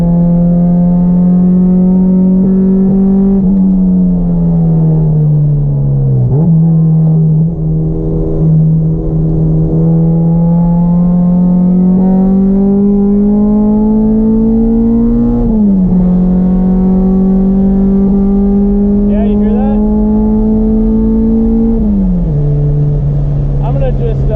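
Engine-swapped Honda Civic on a race track, its engine roaring loud and close from inside the car, pitch climbing steadily through each gear before dropping sharply at the shifts, repeated several times.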